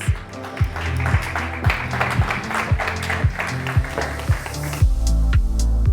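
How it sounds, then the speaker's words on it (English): An event audience claps to welcome a presenter to the stage at a wellness tourism trend talk, the clapping running beneath loud walk-on music with a steady thumping beat. "A round of applause, please."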